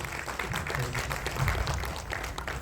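An audience at a Kannada film trailer launch applauds to welcome a guest, dense continuous clapping with crowd noise, moderately loud and even from start to finish.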